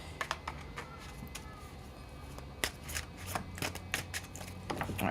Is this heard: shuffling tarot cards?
yes